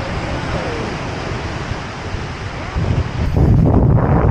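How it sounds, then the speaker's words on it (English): Ocean waves rolling in at Patar, Bolinao, under strong wind noise on the microphone, a steady roar that builds into a louder crash near the end, with no talking. "look at those, look at those waves"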